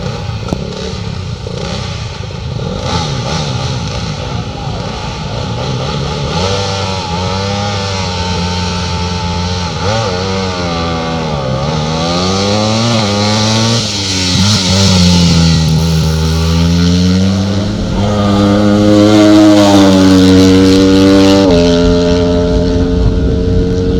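A two-stroke twin motorcycle climbs Barbon Hill at a hillclimb, its engine loud and close, rising in pitch through the gears with a shifting whine and revving harder toward the end.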